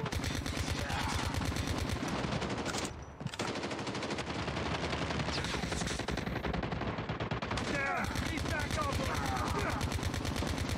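Rapid automatic gunfire and bursts of shots crackle loudly and almost continuously in a Call of Duty Mobile match, with a brief lull partway through and game voices mixed underneath.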